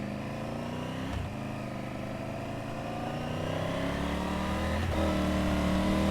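A Triumph Tiger 850 Sport motorcycle engine idles and revs steadily in a car park, its pitch rising gradually with a couple of brief throttle blips, close and loud with no talking.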